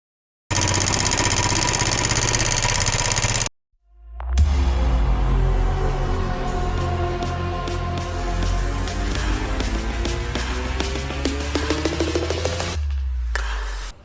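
A Royal Enfield Bullet motorcycle engine runs close by with a loud, steady thumping idle and rhythmic mechanical knocking, briefly cutting out before restarting and continuing at a constant pace without any talk.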